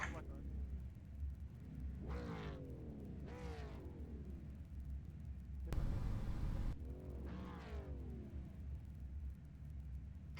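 V8 Supercar race cars on the grid at Brands Hatch idle with a deep rumble and blip their engines in several rising revs, one after another, while a voice talks over them.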